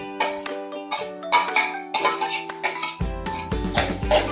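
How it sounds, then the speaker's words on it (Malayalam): A metal spoon clinks and scrapes against a pan while grated coconut and browned urad dal are stirred for chicken thoran, with a quick run of repeated close taps and knocks. "നന്നായി കരിയാതെ ഇളക്കി കൊടുത്തുകൊണ്ടിരിക്കണം"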